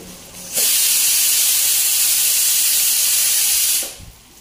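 Bitter gourd pieces fry crisp in hot oil in a kitchen pan, a loud continuous sizzling hiss that swells suddenly, holds steady for about three seconds, then fades.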